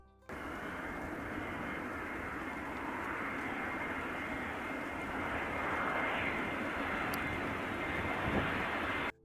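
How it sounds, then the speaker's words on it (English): Yakovlev Yak-42, a Soviet trijet airliner first flown in 1975, roars with a steady, loud jet-engine rumble and broad rushing noise for several seconds, swelling slightly midway, with no talk. "The Yakovlev Yak-42, first flown in 1975, holds the distinction of being the only Soviet-designed trijet airliner."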